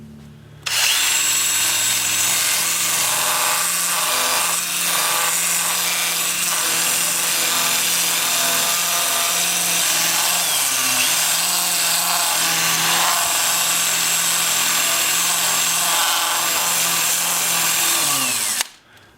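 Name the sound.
sanding plum wood on a lathe with a sanding disc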